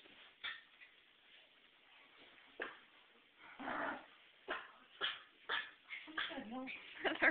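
A dog lets out a series of short, sharp barks and yips, scattered irregularly at first and then coming faster toward the end, close by over a faint, muffled background.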